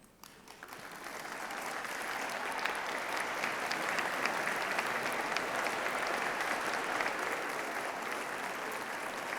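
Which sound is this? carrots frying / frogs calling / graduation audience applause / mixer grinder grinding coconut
graduation audience applause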